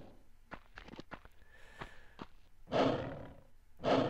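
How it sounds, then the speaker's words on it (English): Lions in the PS1 game Tomb Raider give two deep, loud roars after a run of sharp footstep-like clicks and a faint hum, the roars swelling and fading in turn. "I can hear some roaring."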